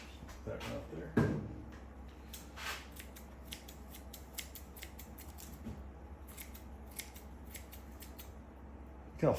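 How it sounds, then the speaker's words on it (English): Scissors trim the thick hair on a deer head mount with a few soft, close snips. Faint low background noise and a speaking voice can be heard around them. "go back and trim the hair with scissors"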